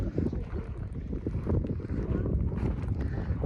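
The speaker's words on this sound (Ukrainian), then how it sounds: "Вітер, сніг, коротше, капець." Strong winter wind at the seashore buffets the microphone in a constant low roar, with gusts rising and falling and a faint wash of sea in the background.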